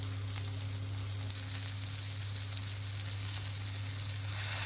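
Spices, soy sauce and tomato sauce for soyabean chilli fry in a pan with a continuous close sizzle over a steady low hum, with no talking.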